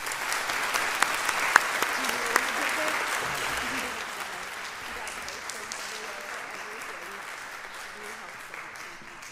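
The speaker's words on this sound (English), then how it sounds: "So please join me in a round of applause for a remarkable leader who made this year a success, Abi Alcantar." An audience at a senior awards and scholarship program gives a round of applause, dense and loud at first, then gradually thinning and fading toward the end, with a few sharper claps standing out early.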